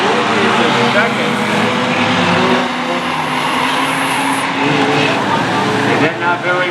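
Race cars at Waterford Speedbowl coming up to speed on the oval, a dense, loud roar of several engines rising and sweeping past, with a commentator talking over the noise.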